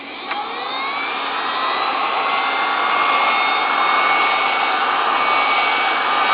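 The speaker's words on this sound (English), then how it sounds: "always keep your heat gun moving." Heat gun blowing a steady, loud hiss of hot air while reflowing a GPU's solder, continuous and unbroken without any talking.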